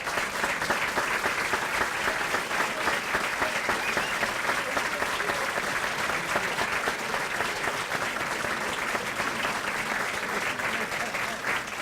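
Sustained, dense applause from a room of guests at an annual civic awards dinner honoring Citizens of the Year, steady clapping at an even level for about twelve seconds.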